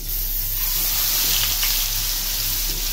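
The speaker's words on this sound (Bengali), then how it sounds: "মাখানো মুরগিটাকে ফ্রাই করব হালকা" Marinated sonali chicken frying lightly in oil gives a constant close hiss and sizzle with a low steady hum beneath it, and no voices over it.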